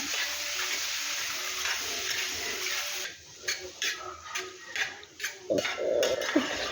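Chopped jackfruit is stirred in a pan with ghee for payasam, giving a string of soft scraping and clinking strokes against the pan over a low background hiss, close and moderately quiet.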